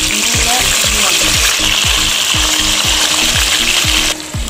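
Beef strips hit hot oil in a sauté pan with a loud, continuous sizzle. Rhythmic stirring scrapes repeat about twice a second over the frying, and the sizzle drops away abruptly near the end.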